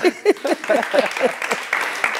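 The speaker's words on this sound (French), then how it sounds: "J'aimerais qu'on applaudisse pour ça." An audience at a talk-show interview with a legendary Malian singer breaks into brief applause, a short burst of clapping mixed with a person talking over it up close.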